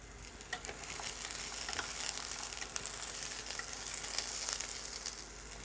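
Cauliflower and peas fry in hot oil with a steady, dense sizzle that fills the whole stretch, close and even, with small crackles and stirring sounds now and then and no talk.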